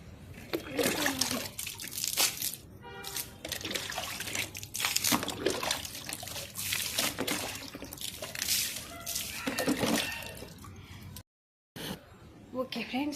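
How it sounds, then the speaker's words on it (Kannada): Water is poured and splashed onto swept ground outside a house, ready for rangoli, in uneven gushes, trickles and splatters. Voices can be heard intermittently, and the sound drops out briefly near the end. "ನೀರು ಹಾಕಿದೆ ಈಗ."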